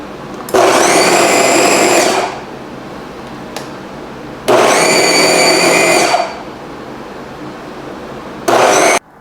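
A blender whirs at high speed mixing meatball dough with egg white, running loud in two long bursts of about two seconds each, then starting a third short burst at the end, with no talking.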